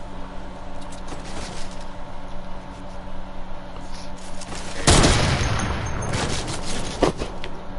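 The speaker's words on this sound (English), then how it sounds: "You quickly start laying down suppressing fire." Gunfire in the Fortnite video game, scattered shots followed by a heavy burst of rapid suppressing fire, loud and close, with no voices.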